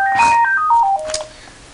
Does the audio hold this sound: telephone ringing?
yes